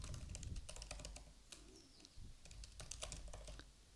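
Quick, faint keystrokes on a computer keyboard tap out in an uneven rhythm of light clicks against a low background hum.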